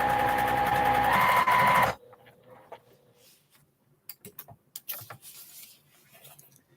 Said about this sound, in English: I'm just sewing and sewing and sewing